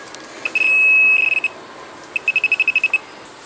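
An underwater metal detector pinpointer beeps at close range, first in a long steady tone with a few short pips, then in a quick run of about eight evenly spaced beeps over a murmur of background noise.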